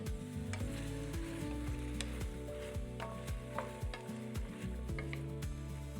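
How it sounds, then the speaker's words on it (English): Vegetable curry with coconut milk and spices sizzling in a pan while a spoon stirs it, with steady close frying hiss and repeated soft scraping strokes throughout, no talking. "keep stirring these vegetables"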